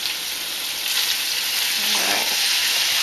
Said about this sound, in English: You hear that sizzling? You want it to sizzle.